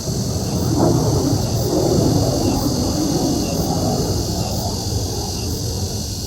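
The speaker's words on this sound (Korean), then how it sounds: "바로 머리 위에서 비행기가 지나가서 소리가 아주 시끄럽습니다" An airplane passes directly overhead at a community farm, a broad loud rumbling roar that swells and then slowly fades across the whole stretch.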